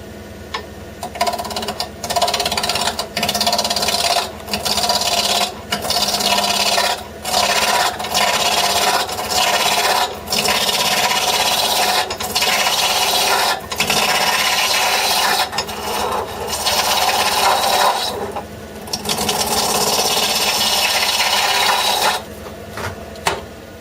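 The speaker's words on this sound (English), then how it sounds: "Use a 3/4 inch roughing gouge. Start on the top, what's going to be the top of the mushroom." A 3/4 inch roughing gouge cuts wood spinning on a lathe while a mushroom shape is turned: a steady, close, raspy scraping that runs almost continuously, broken by short regular pauses as the tool lifts and returns to the cut.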